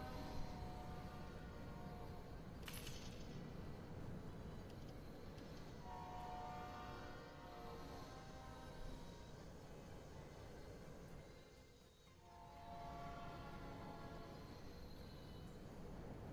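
Trains in the railway game Railway Empire 2 roll past continuously, a steady rumble of rail traffic with tonal horn-like lines throughout and a brief burst near three seconds.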